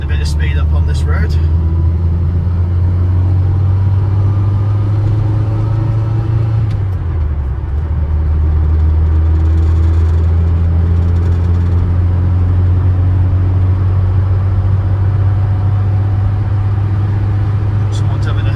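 A car drives along a road and picks up speed, its engine holding a steady low drone that dips briefly midway before climbing again, with a constant rumble of road noise throughout and a person talking over it.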